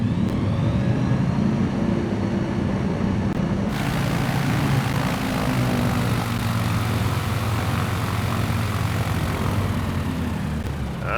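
STOL propeller airplane landing uphill on a tiny Kentucky field, its engine droning loud and close with a steady propeller roar and wind rush throughout, shifting pitch slightly as it slows.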